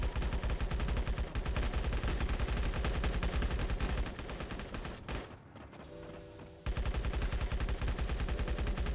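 Heavy continuous gunfire in the survival shooter LifeAfter, a loud sustained barrage of rapid shots that breaks off briefly before resuming at full intensity.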